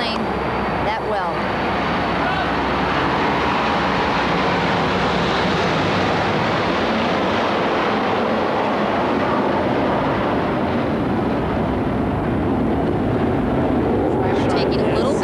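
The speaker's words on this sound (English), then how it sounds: "It's difficult to hear the ball coming off the strings of the server when the jets are flying over." Jet aircraft roar low over an outdoor tennis stadium during a 1992 US Open match, a loud, steady broadband rumble that fills the whole stretch without letting up.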